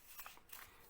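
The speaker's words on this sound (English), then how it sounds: "So let us cut that trapezium PQRS." Scissors cut out a paper trapezium, giving a couple of quick, faint snipping crunches close by in a brief, quiet moment without voices.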